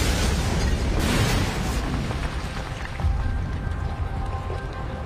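A loud, rumbling explosion at Hitler's Wolf's Lair headquarters fills the whole stretch, with dense low roar and crackling debris that slowly settles but never falls silent.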